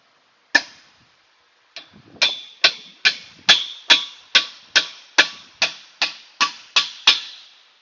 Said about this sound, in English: you come back with your hammer and your 14 mil, get back on your back side of it